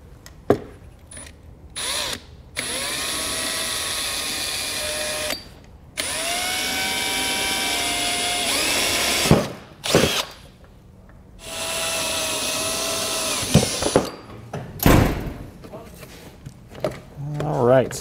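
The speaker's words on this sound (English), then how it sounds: "we can take a 5/16 drill bit to drill those out" A power drill with a 5/16 bit whines loudly in several bursts of a few seconds each, drilling out holes while installing a trailer brake controller, pitch rising and falling as it bites, separated by short pauses.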